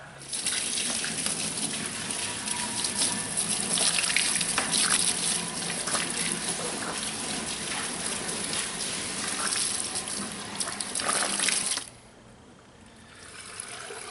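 Water gushes steadily from a hose over the Northstar engine of a Cadillac Eldorado with a coolant leak, splashing into a bucket underneath for about twelve seconds before cutting off abruptly, leaving a quiet background.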